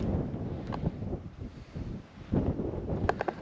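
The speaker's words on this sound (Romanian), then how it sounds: "Cred că suflă vântul și nu se aude bine." Wind buffets the microphone in low, gusty rumbles that rise and fall outdoors at Ocnișoara, Romania, with a few faint clicks near the end.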